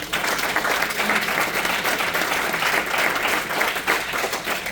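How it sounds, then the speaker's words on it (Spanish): A congregation at a church sermon breaks into loud, sustained applause, a dense, continuous wash of clapping that holds evenly for several seconds with no talking over it. "Dale un fuerte aplauso, Señor."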